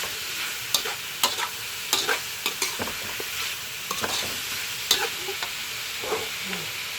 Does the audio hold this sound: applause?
no